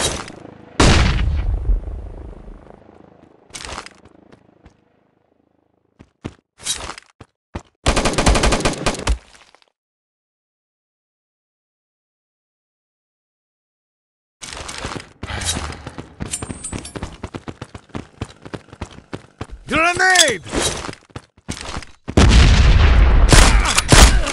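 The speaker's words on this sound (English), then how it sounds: "Flashbang!" Flashbang grenade and gunfire in the shooter video game Modern Ops: loud bursts of automatic fire and booming blasts, broken by a few seconds of near silence, then dense rapid shooting and a ringing explosion near the end.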